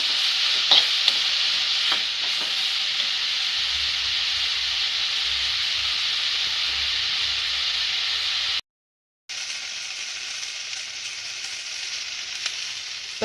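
Chopped vegetables for a veg bread omelette sizzle and hiss as they sauté in a pan, with occasional scraping stirs. The steady frying runs throughout, broken by one brief silent gap, with no talking.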